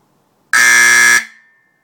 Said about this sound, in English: Let's see how well the iPhone microphone can handle the blast